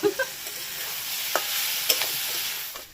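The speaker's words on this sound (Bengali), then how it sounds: "মশলা দিয়ে পুরো কষিয়ে নিয়েছি" Spice masala for a potato and capsicum omelette dish sautés in a pan, a close crackling sizzle punctuated by a few sharp stirring scrapes and taps, with no voices.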